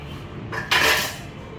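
Egg rice with eggs boiled in a rice cooker being mixed with a utensil, giving a short scraping, clattering burst against the vessel after a quiet start, with no talking.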